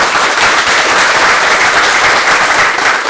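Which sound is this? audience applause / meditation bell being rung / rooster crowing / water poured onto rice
audience applause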